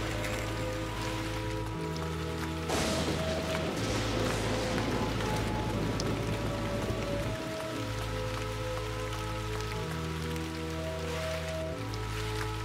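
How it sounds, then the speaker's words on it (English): Steady rain pours throughout in the horror game Lucius, a dense continuous hiss over low droning game music, with no speech. "Let's go out in the rain."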